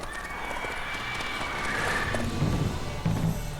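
Roach the horse gallops in The Witcher 3, a muffled rhythmic drum of hooves under a continuous wash of ambient game sound, with a low voice-like rumble near the end.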